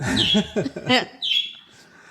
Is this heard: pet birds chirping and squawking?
yes